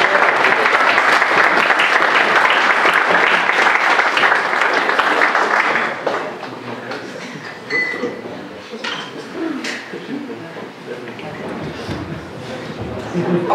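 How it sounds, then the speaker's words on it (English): Audience at a tech meetup applauding loudly for about six seconds, then the clapping fades into murmuring room noise and scattered sounds. "Applause for the developers."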